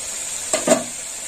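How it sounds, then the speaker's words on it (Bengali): Turmeric fries in oil, sizzling steadily with a bright hiss, broken by two quick scraping stirs of a spoon in the pan. "হলুদটা একটু তেলের মধ্যে ভাজা হয়ে যাবে"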